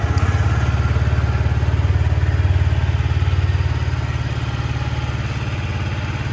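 Yamaha R125 motorcycle engine idles in a steady, even low putter, close and fairly quiet, with no voices.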